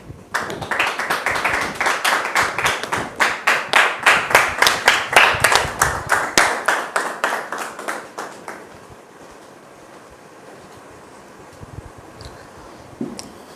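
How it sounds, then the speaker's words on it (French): Rhythmic, synchronized clapping from an audience welcoming a guest, steady beats that swell and then fade out after about eight seconds into quiet room tone with faint noises. "Merci de la recevoir sous vos applaudissements."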